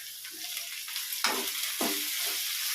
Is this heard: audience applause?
no